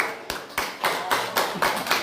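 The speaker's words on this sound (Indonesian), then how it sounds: "Nah oleh karena itu tepuk tangan buat Bu Ida." An audience at an indoor community gathering welcoming Ramadan claps in sharp, evenly spaced bursts, about eight loud strokes in two seconds, close by, with no speech.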